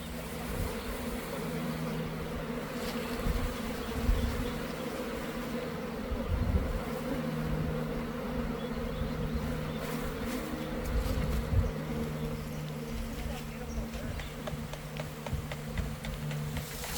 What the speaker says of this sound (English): here you can see the most beautiful part, which is pouring out thousands of bees into the hive